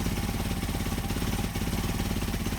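A Mercedes 190SL engine with Solex carburetors idling low, a steady, even rumbling throb that runs without change, close and moderately loud.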